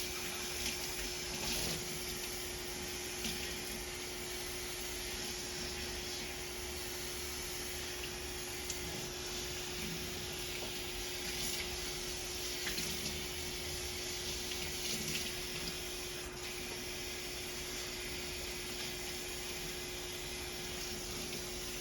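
Steady running water rinsing shampoo out of natural Black hair in a salon-style wash, a continuous close rush with a faint pump-like hum underneath, no talking.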